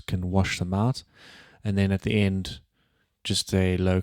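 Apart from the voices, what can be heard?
No everyday noises stand out.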